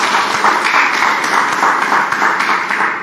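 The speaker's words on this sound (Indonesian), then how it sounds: "Kasih tepuk tangan dulu buat Pak Purwo yang luar biasa." An audience applauds Pak Purwo at a morning gathering, with sustained, dense clapping held at an even level from start to finish.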